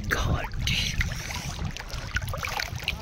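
A coracle gliding on river water on a rainy day, with gentle splashing and lapping under occasional voices.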